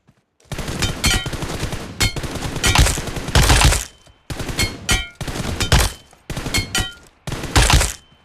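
Video game gunfire during a scoped shooting drill: loud bursts of rapid automatic shots in several strings, separated by short pauses, with no talk.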